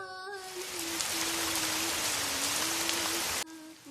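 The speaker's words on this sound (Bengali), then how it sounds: "সকালে খুব বৃষ্টি হচ্ছে।" Steady rain pours throughout as a sound effect in a Bangla audio story of Tagore's Postmaster, with a tonal hum running underneath and a brief cut near the end.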